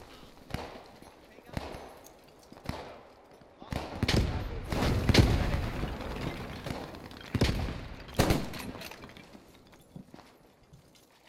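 Grenade blasts and gunfire in the WWII shooter Post Scriptum during a skirmish at Oosterbeek: several loud, sharp bursts with booming explosions mid-clip, scattered shots between, and players talking over the battle.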